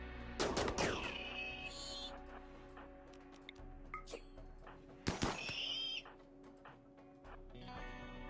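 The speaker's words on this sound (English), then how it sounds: "they're going to be drawn over to Hippie and Gabe, where they're going to get shot" Turrets fire on Scythers in the RimWorld video game, with sharp gunshot bursts and short rattling volleys between quieter stretches, heard faintly with game effect tones.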